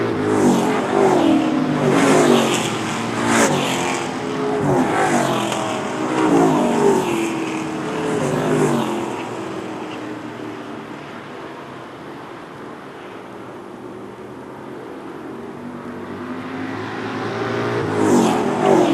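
Short track race cars roar around a tight oval in a heat race, loud engines surging and fading as the pack passes, dropping away briefly before swelling back near.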